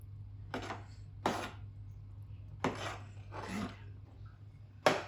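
A spoon scrapes and rubs through thick haleem in a pot in five separate strokes, each a short rough rasp against the metal, close and fairly quiet over a low steady hum.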